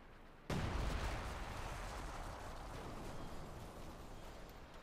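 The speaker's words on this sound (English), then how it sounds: "Mortar fire here." Mortar fire in a Company of Heroes 2 match: a loud burst opens the clip and a heavy, dense rumble of battle sustains after it.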